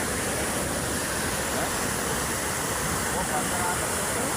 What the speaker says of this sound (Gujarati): આ જો કેટલું પાણી પડે છે